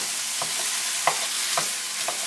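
Hamburger meat sizzles in a pan that is running too hot, a steady loud hiss with soft scraping strokes from stirring about every half second.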